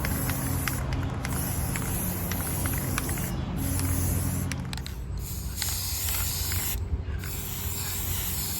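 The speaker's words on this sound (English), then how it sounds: "And then I'm just going to lightly mist the base." A steady hiss of a spray bottle misting the base of a faux palm, continuous and close for several seconds, with faint creaks and handling noise.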